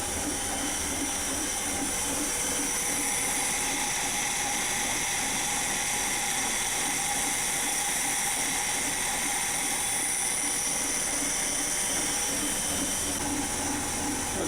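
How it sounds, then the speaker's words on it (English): Chevy 283 engine idling very low at about 300 RPM with no load, a steady, slow, rhythmic rumble layered with constant hiss and mechanical noise, heard alone without speech. "I was actually able to pull the throttle back even further, and it's idling at 300 RPMs."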